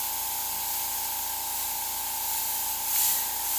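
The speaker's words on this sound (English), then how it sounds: "I can spray at a higher pressure and under-reduced and really like force certain flood strokes" Airbrush spraying paint on a skull design, a steady close hiss of air and paint that holds continuously, with a brief surge in the final second.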